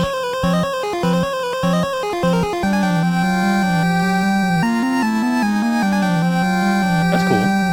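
A dungeon theme from Final Fantasy plays as chiptune-style music, with repeated staccato low notes that give way to a sustained melodic line and shifting harmonies, steady and clear with no talking.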